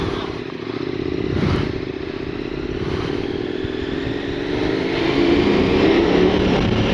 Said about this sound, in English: I like the sound of my own exhaust.